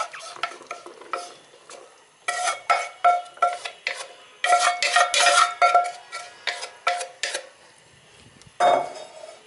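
Minced meat goes into a pan and is worked with a utensil for dry ruqaq pastry, producing close, irregular scraping and clinking strokes in busy clusters with brief pauses between them.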